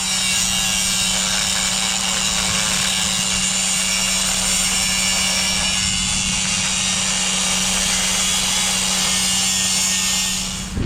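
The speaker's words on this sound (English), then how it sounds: "cut this rebar, grind some of that metal a little bit quick" A power tool cutting steel rebar and grinding metal during a welding repair on a farm harrow, a loud, steady abrasive whine and rasp that runs continuously without pause for the whole stretch.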